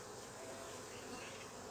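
Honeybees around a hive frame holding fresh brood, a dense, continuous buzzing close by, steady and even with no talking.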